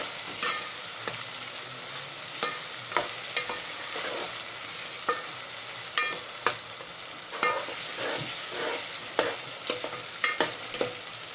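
Onions fry in oil for prawn biryani while a utensil stirs them, giving a continuous close sizzle punctuated by repeated scraping knocks against the pan, with no voices.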